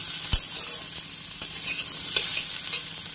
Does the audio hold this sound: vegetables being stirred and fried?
yes